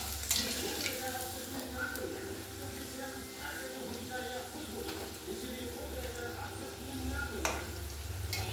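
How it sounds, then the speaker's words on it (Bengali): Bean kachori fry in a wok of hot soybean oil, giving a continuous soft sizzle with light ticks and stirring clatter, while a voice can be heard faintly in the background. "কচুরি ভাজতে দিয়ে দিয়েছি।"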